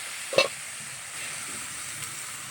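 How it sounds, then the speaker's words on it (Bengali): Washed eggplant pieces hit a hot pan for a fish and eggplant curry, setting off a quick splash of sizzle that settles into a steady, moderate hiss. "বেগুনটা ধুয়ে রেখেছি, ঢেলে দিলাম।"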